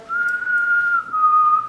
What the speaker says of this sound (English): we heard people whistling